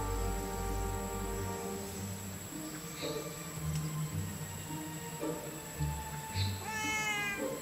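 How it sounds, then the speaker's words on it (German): A cat meowing in a hidden-object adventure video game, Danse Macabre 2, a few short plaintive meows spread across the span over soft game music. "Ja, Katze, ich habe nichts für dich."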